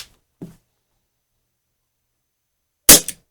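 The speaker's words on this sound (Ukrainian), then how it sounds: "Третій відстріл чешськими свинцевими кульками. Також зроблю три постріли." Umarex UX Tornado CO2 revolver firing Czech lead pellets, two sharp close cracks with one small click in between and silence around them.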